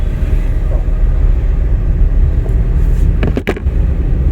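A car moving during a driving lesson gives a loud, steady low engine and road rumble, broken by a couple of brief sharp knocks near the end.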